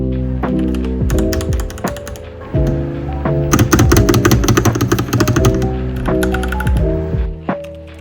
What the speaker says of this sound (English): I use the Yunzi AL75 because of how nice it sounds and its yellow keys.